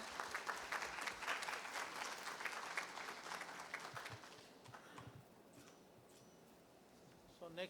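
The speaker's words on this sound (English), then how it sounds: "Let's give them a huge round of applause" An audience at an SME manufacturing summit in Mumbai applauds, dense clapping that is loud at first and then thins and fades, with a short burst returning at the end.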